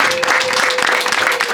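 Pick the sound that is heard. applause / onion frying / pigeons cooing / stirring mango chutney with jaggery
applause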